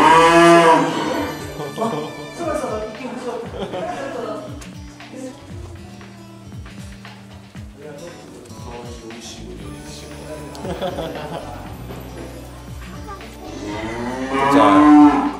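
Tajima cattle, the Japanese Black beef breed's ancestral line, moo inside a cowshed, with several loud, drawn-out calls near the start and end and fainter lowing and shuffling between them, while people talk nearby.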